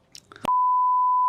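A censor beep covers swearing in a chaotic post-wedding podcast: a single loud, steady electronic tone lasting almost a second, cutting in right after a brief burst of speech.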